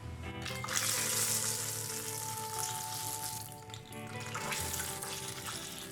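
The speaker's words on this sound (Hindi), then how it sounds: "मैं चिकन पैटी को अभी फ्राई करती हूँ" Chicken patty frying in hot oil for a restaurant-style chicken burger, giving a steady, close, fairly loud sizzle and crackle under a faint tonal background hum.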